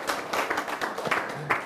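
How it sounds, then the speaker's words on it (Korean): Short burst of audience applause at a talk on meditation and anxiety, a few seconds of fairly steady clapping from a small crowd, moderately close. "박수."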